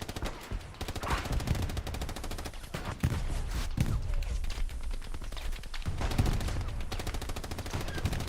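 Repeated gunfire and heavy shots around a tank in the Hell Let Loose World War II shooter at Remagen's Ludendorff Bridge, a dense, continuous battle din with blasts punctuating the steady rattle.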